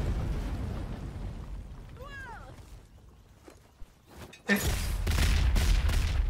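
Explosions and gunfire in the video game Strange Brigade burst in loudly after a quiet stretch, with a sharp blast followed by sustained heavy rumbling and crackle; a voice speaks briefly earlier.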